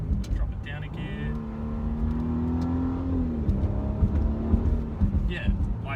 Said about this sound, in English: I'll just put it into Sport Plus. Obviously just give it a little bit.